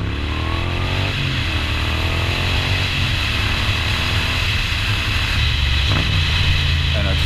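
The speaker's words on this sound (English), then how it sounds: "And I just love making that exhaust note rev as I slow down to my venues." A Moto Guzzi V9 Roamer fitted with an Agostini exhaust drones loudly and steadily while riding, its note dipping and swelling a few times as the revs change.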